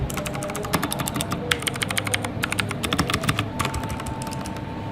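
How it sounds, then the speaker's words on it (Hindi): A Redragon K569 Aryaman RGB mechanical keyboard clatters with rapid, uneven bursts of crisp key clicks, typed close up and continuing steadily with no talking. "आई होप कि आपको साउंड की आवाज़ जो है वो क्लिक की आवाज़ आ रही होगी।"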